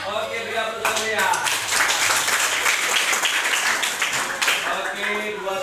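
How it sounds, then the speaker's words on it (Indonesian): Students in a junior high school classroom applaud, a dense burst of clapping that swells quickly and holds for several seconds with voices mixed in. "beri aplaus ya"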